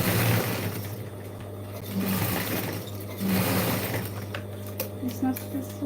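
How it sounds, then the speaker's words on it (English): A sewing machine puts a flat topstitch along the top of a denim jeans bag, giving a steady mechanical hum that runs the whole time in short bursts, with a person speaking over it. "I'm just gonna give it a flat stitch on the top."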